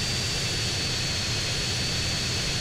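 A loud jet aircraft in GTA San Andreas roars overhead as a dense, steady wash of engine noise filling the whole short stretch, constant and close with no talking.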